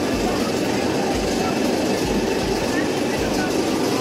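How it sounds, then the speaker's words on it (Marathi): Metro-themed amusement park ride running at Imagica in Mumbai, a loud continuous rushing rumble with rail-like clatter that stays close and constant throughout. "आता आपण या मेट्रो फर्स्ट राईडमध्ये बसणार आहोत."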